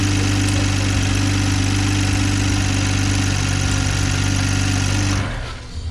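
A Toyota Supra engine with a catless downpipe idles loudly and close, a rough steady rumble with a fast rhythmic ticking running through it, cutting off abruptly near the end.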